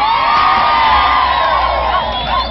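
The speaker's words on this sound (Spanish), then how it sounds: "Gracias por los aplausos, Honduras" A concert crowd at a reggaeton show in La Ceiba, Honduras cheers and whoops steadily, a dense, loud wash of voices sustained throughout with no clear pauses.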